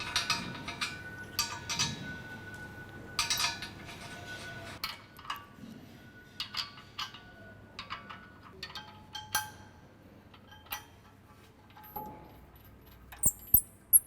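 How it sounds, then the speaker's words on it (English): Washers and nuts go onto the studs of an Ironman 4x4 Raid front bumper on a 2014+ Toyota Tundra. Soft, faint metallic clinks and scrapes come in irregular bursts, close by, with quiet pauses between them. "All right, we got our outside washers and nuts finger tight out here"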